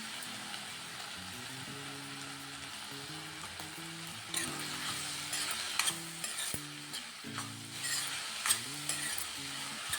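Cabbage, potato and green peas fry in a pan with a steady close sizzle, broken by scraping stirs that grow busier and louder partway through, while a faint tonal hum runs underneath.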